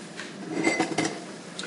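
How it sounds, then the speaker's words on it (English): Spoon or fork clinking against a cooking pot while breaking up cauliflower in simmering broth with caraway seeds: a few light metallic taps and scrapes, close and fairly soft, with no talking. "break up that cauliflower by just touching it with a spoon or a fork"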